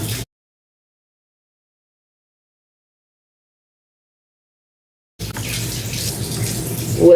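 Warm tap water runs steadily into a sink during a skincare rinse, a brief burst at the start, then silence, then a continuous close splashing gush to the end.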